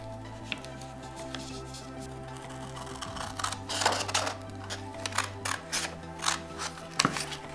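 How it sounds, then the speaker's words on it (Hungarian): A square sheet of paper is folded by hand and its edges pressed down into sharp creases, giving quiet rustles and crisp crackling rubs that come in short bursts and grow busier toward the end. "Mielőtt levágom a fölösleget, ezt is fölhajtom."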